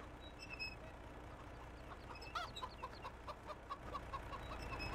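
Chickens clucking in a farm simulation game, a series of short, moderately loud clucks in the second half over a steady background hum.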